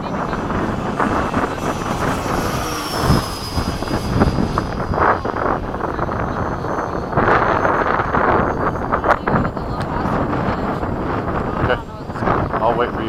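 RC model jets, an FMS 80mm Hawk and a Freewing 80mm Avanti EDF, flying in formation at low throttle, giving a steady turbine-like whine and rushing drone mixed with outdoor wind noise, with people talking throughout.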